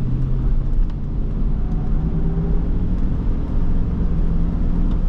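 A 2005 Chevrolet Suburban 1500 with its Vortec V8 drives along at steady speed, giving a continuous low engine rumble and road drone from inside the cabin, with no one speaking.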